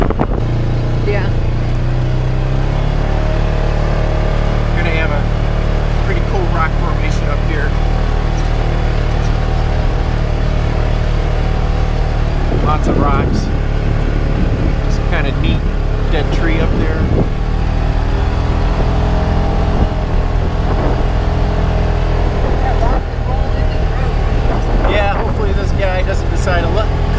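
A Polaris RZR side-by-side droning steadily as it drives down a mountain trail from Scott Mountain Lookout in Idaho, with loud constant engine and wind rumble, occasional rattles and people talking over it.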